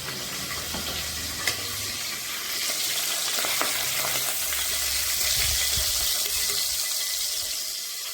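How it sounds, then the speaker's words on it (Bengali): Fish fries in hot oil in a kadai with a steady, close sizzle, punctuated by a few sharp clinks and scrapes from turning the fish. "একটা মাছ ছিল, সেটা এখন ভাজা বসিয়ে দিলাম।"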